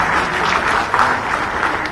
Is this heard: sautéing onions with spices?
no